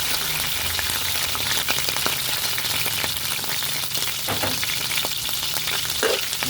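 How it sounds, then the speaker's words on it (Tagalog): Shrimp sautéing in a hot pan for ginisang Baguio beans, a dense continuous sizzle with scattered crackles and scraping stirs, close and steady. "Pero bago natin iluto, gisain muna natin yung yung hipon."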